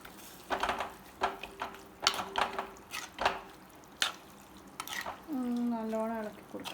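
Sole fish pieces slide into hot, lightly warmed curry paste in a pan, with several short clinks and soft wet stirring taps, then a voice speaking briefly near the end.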